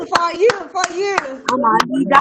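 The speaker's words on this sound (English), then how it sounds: "round of applause for you." A few crisp hand claps ring out in a loose rhythm over voices, including a child's, that talk and sing loudly nearby.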